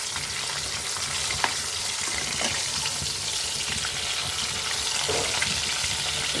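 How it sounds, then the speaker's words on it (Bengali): Hilsa fish fries in a pan with a steady, dense sizzle and crackle close by, broken by a few faint clinks of a utensil, with no talking. "ইলিশ মাছটা ভাজি হয়ে গেলে তারপরে আমার হয়ে যায় প্রায়"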